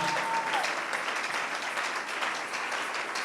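A church congregation breaks into sustained, dense applause with cheering while acclaiming God, a full, continuous wash of clapping with a voice briefly audible at the start.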